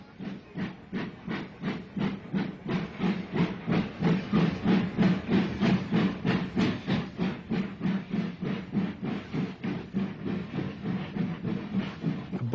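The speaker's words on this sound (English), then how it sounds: "a BR Standard Class 5 passes through the station" A BR Standard Class 5 steam locomotive runs through a station at Folkestone Junction, its exhaust beats chuffing in a steady, loud rhythm with constant hissing steam over roughly a dozen seconds.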